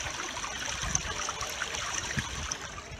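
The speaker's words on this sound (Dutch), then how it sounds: "De waterval." Continuous broadband rush of falling water from a waterfall, steady and moderately loud with no voices, like a constant stream pouring down.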